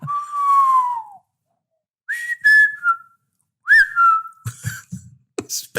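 BD-1 droid from Star Wars Jedi Fallen Order, imitated by a human voice: a long falling whistle, then short chirpy warbling whistles and clicks in bursts separated by pauses, close and clear.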